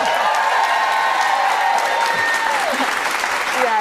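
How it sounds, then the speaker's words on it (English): Studio audience on live morning television breaking into loud, dense clapping, with a few voices audible over the applause. "I love that my mom had the audience clap."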